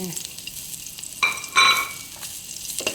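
Chopped onion drops into a hot frying pan and starts a soft sizzle, with stirring scrapes and a louder hiss burst partway through.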